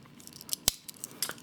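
Scissors on a Wenger Traveler pocket knife snip once sharply, with a few lighter clicks and rustles of the small blades around it, close and fairly quiet.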